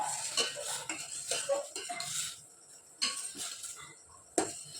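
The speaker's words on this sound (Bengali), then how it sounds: "এলাচ দিয়ে দিলাম এটা হতে হাতা দিয়ে একটু নাড়িয়ে দেখে নিই" Metal ladle stirring sweet potato syrup in a cooking pot, bright scraping clinks against the pot wall in irregular bursts, close and distinct, with brief quiet gaps between strokes.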